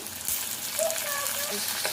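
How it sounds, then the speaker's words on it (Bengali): Shrimp fry in hot oil with onions and chopped green chillies in a pan, giving a steady close sizzle with soft crackling; a faint tonal sound briefly rises above the frying. "মাছগুলো দিয়ে আমি হালকা বাদামি করে ভেজে নেব"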